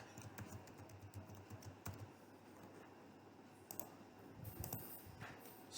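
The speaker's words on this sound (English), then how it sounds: "type the password," Fingers type a password on a computer keyboard, producing quiet, close, irregular clicking keystrokes, with a brief pause and then a final flurry of presses.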